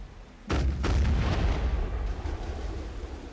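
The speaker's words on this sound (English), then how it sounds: "I'm gonna go this way so I can hit you with this other cannon." A booming ship cannon blast in the video game Black Desert Online, a quick double crack followed by a long rumbling roar that fills the space, loud and near.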